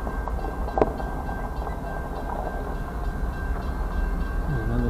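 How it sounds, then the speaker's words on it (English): A train rumbles past in Ayer, Massachusetts, a steady loud roar of rail cars with a sustained tonal whine, a sharp metallic clank near the start and some wind noise, no voices. "Another train coming."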